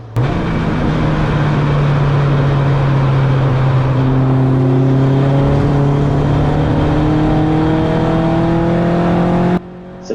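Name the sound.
race car engine hitting the rev limiter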